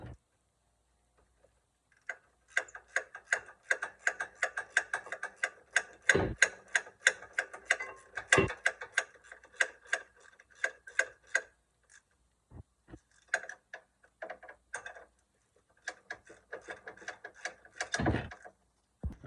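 A ratchet tightens brake caliper bolts on a 2011 Hyundai Santa Fe, with rapid close clicking in uneven bursts separated by short pauses and a few sharper knocks.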